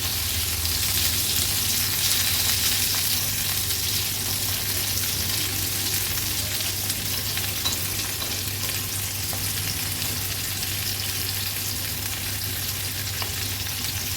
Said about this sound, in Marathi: एक एक करून आता ही मिरची मी पलटून दाखवते